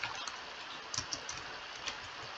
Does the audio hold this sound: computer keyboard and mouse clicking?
yes